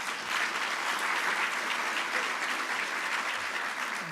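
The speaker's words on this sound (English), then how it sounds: "Let's give them a round of applause." An audience at a 2015 State of the City Address gives sustained applause in a hall, a dense, continuous wash of many hands clapping at even volume throughout.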